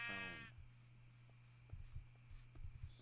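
One short, clear bleat from a sheep in modded Minecraft opens the moment, then gives way to a quiet low hum broken by soft scattered footstep-like taps.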